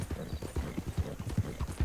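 Horse hooves clip-clopping at a steady riding pace in Red Dead Redemption 2, a regular, moderately loud rhythm of hoofbeats with a faint whinny-like tone, and nobody talking over it.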